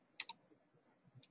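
Computer mouse clicks while working in Excel, a few sharp, faint, close clicks spaced apart in a quiet room, a pair near the start and another pair at the end.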